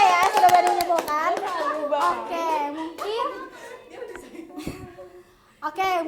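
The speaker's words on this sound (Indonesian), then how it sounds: "Oke, tepuk tangan dulu buat Umay dan Rakesha ya, sudah berani menyimpulkan." A school class claps for students during a lesson: quick, scattered claps under a teacher's talk and children's chuckles.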